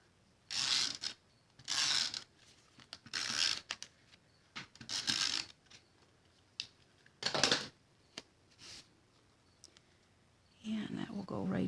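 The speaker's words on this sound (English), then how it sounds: "I'm going to use some tape runner" A tape runner dispenses adhesive tape during Stampin' Up! card making, heard as a run of short, scratchy, ratcheting bursts at a steady, uneven pace, close and fairly quiet, with a longer burst at the end.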